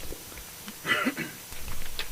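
A single short cough or throat clear on a radio show, close and fairly loud, over a quiet murmur of background noise.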